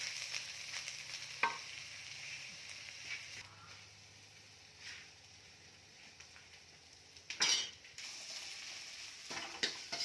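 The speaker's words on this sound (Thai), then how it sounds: "ผัดตะไคร้กับน้ำหมูแล้วให้หอมนะครับ" Soft sizzling from a pan as lemongrass is stir-fried with pork, occasional scraping strokes of a spatula stirring, quiet and close, with brief faint background noises.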